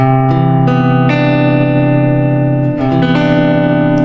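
A jazz major 9 chord on guitar, built from a few plucked notes that blend into a rich, sustained sound with reverb and effects, played close and loud without speech.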